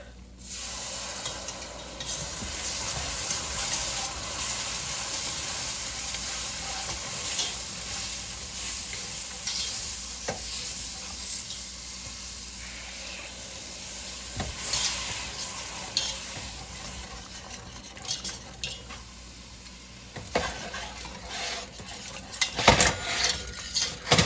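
Milk poured into a roast pork stew simmering in a pot, with steady sizzling and stirring scrapes throughout, growing busier with sharper clatters near the end; no voices.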